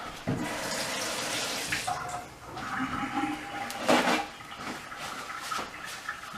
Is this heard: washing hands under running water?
yes